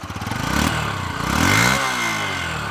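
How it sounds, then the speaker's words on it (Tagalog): Yamaha XTZ125 motorcycle with its stock exhaust pipe, engine revved up and dropping back, close and fairly loud, running alone for a few seconds. "So Yamaha XTZ125 guys, ayan yung tunog niya. Stock pipe po yan."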